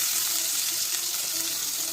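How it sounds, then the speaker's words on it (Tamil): Onions fry in hot oil for a cauliflower curry, giving a steady, close, even sizzle with a bright hiss that holds without a break for the whole short stretch. "இப்போ நம்ம வந்து ஆயிலில் வெங்காயத்தை போட்டுக்கலாம்."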